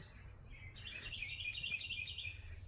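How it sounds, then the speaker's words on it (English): A bird trills and chirps steadily through the clip on a cold morning, a bright song over quiet low background rumble. "You can hear the birds."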